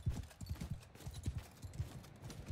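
Horse hooves clop across the ground in Mount & Blade II: Bannerlord, a quick, steady galloping rhythm of low thuds close by, with no talk over it.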